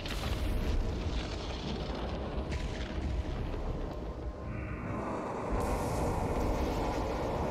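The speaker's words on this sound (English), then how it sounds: "Fireworks." Loud, dense booming blasts from fireworks in the shooter DOOM Eternal during the Khan Maykr boss fight, a continuous barrage of heavy explosions and rumble filling the whole stretch with no talking.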